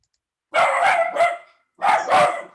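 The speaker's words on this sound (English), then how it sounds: "Dog runs by in the background." A dog gives two short bursts of barking, each a pair of quick, loud barks close by, with silence before and between them.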